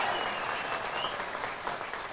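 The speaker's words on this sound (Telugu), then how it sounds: "మనమందరం కూడా వారికి ఒకసారి గట్టిగా చప్పట్లతో మన సంతోషాన్ని వెలిగిస్తున్నాం" Audience applause at a political gathering held in honour of a leader, a steady dense wash of many hands clapping that stays loud and even throughout, with no speech over it.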